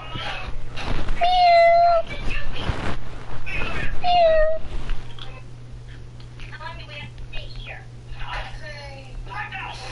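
A cat meows twice in drawn-out, rising-and-falling cries, then fainter mews follow, all among overlapping voices and a steady low electrical hum in an indoor room.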